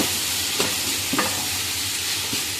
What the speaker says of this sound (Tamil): ரம்பையிலையும் போட்டு வெங்காயம் நல்லா பொன்னிறமாக வதங்கணும்.